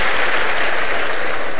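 Loud, steady clapping fills the room as a live audience at a 2015 Spanish political debate between Albert Rivera and Pablo Iglesias applauds, a thick unbroken burst with nobody speaking.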